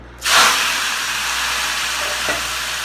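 Garlic and onion dropped into hot oil for ginataang manok, a loud sizzle that bursts in at once and then settles into a steady, close frying hiss with no talk.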